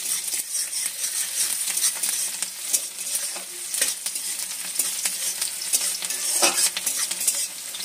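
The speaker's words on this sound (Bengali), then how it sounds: "পেঁয়াজ আর ক্যাপসিকামটা ভেজে নিয়েছি" Onion and capsicum frying in a pan: a continuous close sizzle with frequent scraping and clinking of a spatula as the pieces are stirred.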